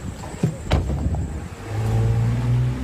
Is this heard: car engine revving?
yes